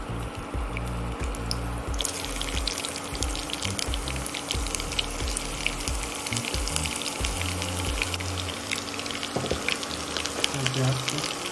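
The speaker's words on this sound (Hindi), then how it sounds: "प्याज को गोल्डन ब्राउन होने तक थोड़ा फ्राई करेंगे" Onions fry in hot oil for nalli nihari, giving a dense, steady crackling sizzle with scattered pops and sputters that carries on unbroken from start to finish.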